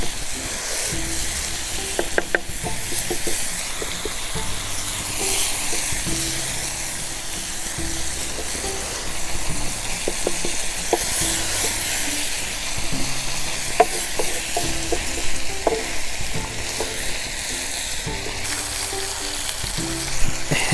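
Chicken tikka sizzles loudly and steadily on a hot tawa, with intermittent scraping and clinks as pieces are turned over, the crackle continuous throughout.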